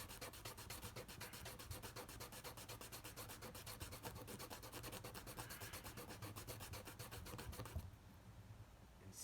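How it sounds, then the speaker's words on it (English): Sanding a plastic part for an AK-style Nerf Stryfe blaster mod, a fast steady rasping stroke rhythm, close and continuous, stopping abruptly near the end, with no talking. "And sand."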